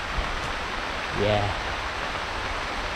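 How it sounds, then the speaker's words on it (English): Steady rain falling on a hiking trail through plantation vegetation in Cameron Highlands, Malaysia, a constant hiss filling the whole clip, with a brief spoken word partway through. "I'm stuck in the rain."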